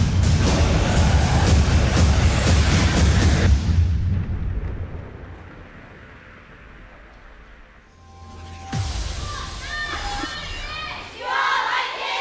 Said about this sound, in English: As the crowd cheers